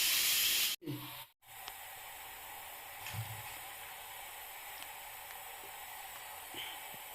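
A pressure cooker steams kappa puttu, tapioca puttu with grated coconut, giving a steady, close, airy hiss that cuts out twice briefly near the start, then runs on evenly with faint clicks.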